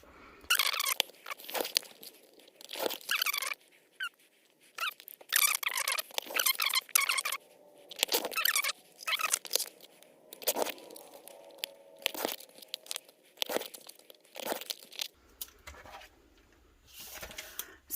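Close, intermittent snipping and crinkling as patterned vinyl sheet has its edges trimmed, short dry cuts and rustles in irregular bursts separated by near-silence.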